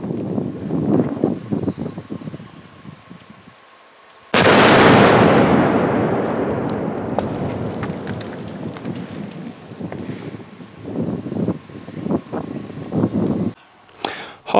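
An 11-hole rock blasting shot, a sudden heavy boom after a few seconds of wind-buffeted quiet, followed by a long rumbling decay and scattered debris and wind noise, with faint voices in the background.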